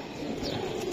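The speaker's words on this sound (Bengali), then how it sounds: "এই যে কবুতরটা দেখেন" A racing pigeon gives a soft, low continuous cooing close by, with faint chirps in the background and no talk.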